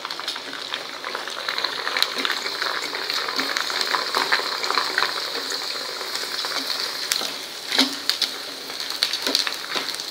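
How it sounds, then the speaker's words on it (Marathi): Sago pearls (sabudana) fry in hot oil on a medium gas flame, giving a steady, close, continuous sizzle with occasional stirring scrapes and no talking. "गॅस मध्यम करते बारीक केलेला आणि हे छान तळून घेते"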